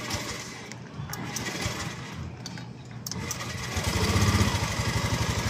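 A Honda Beat scooter with a charging fault and dead dashboard lights starts up and settles into a steady, close-up idle, its engine note growing louder and more rhythmic toward the end.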